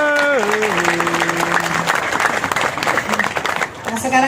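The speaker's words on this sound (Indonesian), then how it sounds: "Tepuk tangan untuk kalian." An audience at a company break-fast gathering applauds in a dense, sustained burst, while music tones and a voice carry on over it.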